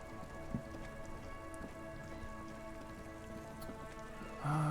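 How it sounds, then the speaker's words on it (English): Steady rain in the video game Disco Elysium pours down in a dense, even patter, constant throughout with no talking, ending in a brief louder burst. "And will it ever stop raining?"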